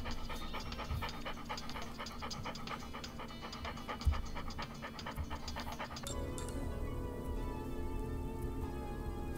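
A dog pants in quick, rhythmic breaths during a video game's dog tutorial, close and steady for several seconds before the panting gives way to a droning game tone.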